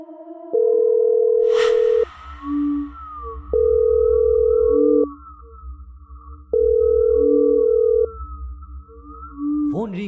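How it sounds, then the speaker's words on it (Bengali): An unanswered phone call rings in a dramatized story, three long electronic ring tones evenly spaced with pauses between, over a low ambient drone and a brief swoosh effect near the start. "ফোন রিং হচ্ছে, কিন্তু অপর পাশ থেকে রিসিভ হচ্ছে না"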